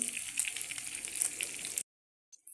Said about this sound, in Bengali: সরিষা তেল দিলাম মাছটি তেলের মধ্যে ভেজে নিচ্ছি